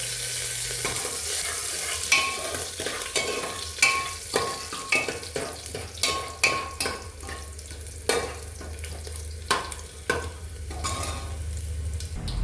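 Asafoetida and curry leaves are stirred in hot oil in a pan for a Kathiyawadi masala khichdi, a steady sizzle broken by repeated scraping strokes of a spoon, close and fairly loud with no talking.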